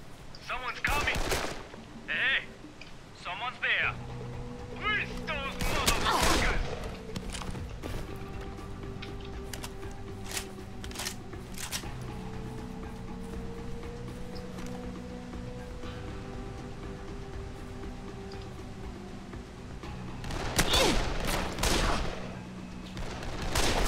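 Gunfire in a video game: scattered single shots and short bursts with sharp cracks, some clustered near the start and again near the end, over a low droning game background with intermittent voices.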